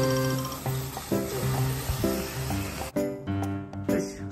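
Mackerel sizzling on a grill at a rural seaside home, a steady bright hiss with crackles and pops, while tonal clatter and background noise intermittently break in.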